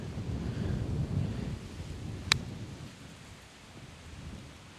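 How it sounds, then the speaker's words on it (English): Strong wind buffeting a microphone outdoors on a golf course, a steady low rumbling roar that swells and eases, with one brief sharp click partway through and no talking. "This wind is brutal"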